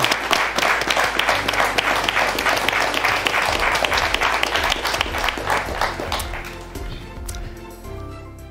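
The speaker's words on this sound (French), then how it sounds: "On va les applaudir." A large audience at an award ceremony applauds steadily with dense, overlapping clapping that carries on for several seconds before gradually thinning out and fading toward the end.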